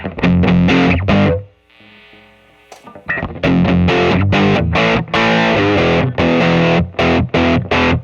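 Distorted electric guitar through a Walrus Audio Voyager MkII overdrive pedal with silicon diodes and bass boost, thick and bass-heavy chords strummed loudly, with a short quiet gap of sustained notes before the heavy playing resumes.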